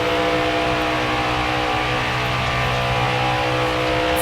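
Stock car engine roars continuously at high revs during the 2022 Coca-Cola 600, likely in a racing video game, a loud steady whine with no talk.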